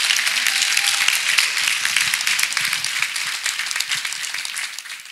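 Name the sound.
congregation clapping after a church testimony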